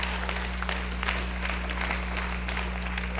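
Graduation audience applauding at a school ceremony in a hall, a steady dense wash of clapping over a low electrical hum, with no voices standing out.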